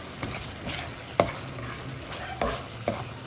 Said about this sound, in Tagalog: Paminta haluin natin.